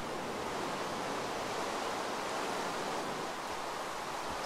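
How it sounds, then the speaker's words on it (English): Steady, dense rainfall in Minecraft, a constant hissing wash of noise with no breaks, no voices and no other sounds. "And goody, it's raining."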